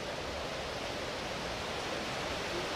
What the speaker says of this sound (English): Windy and everything.